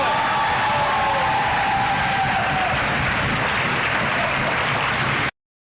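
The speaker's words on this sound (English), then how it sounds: "The Yale crowd cheering" A Yale debate audience claps and cheers in a dense, steady wash of applause and whoops that continues for about five seconds before cutting off abruptly.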